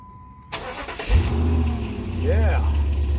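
A Jeep Grand Cherokee 4.7 V8 cranks and catches with a sudden burst, then settles into a loud, steady low rumble up close while people talk over it.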